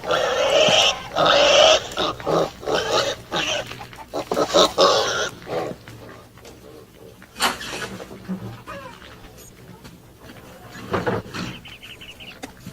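A pig on a western film soundtrack gives loud close grunts and squeals in bursts at first, then fainter intermittent grunts, with a voice talking at times.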